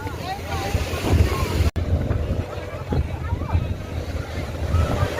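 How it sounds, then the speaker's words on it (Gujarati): A boat's engine hums over the sea at Bet Dwarka, Gujarat, with waves and wind buffeting the microphone, while people talk excitedly nearby. "જો આ બોટ આવ્યો. વાહ હા, કેવી સુપર બોટ છે."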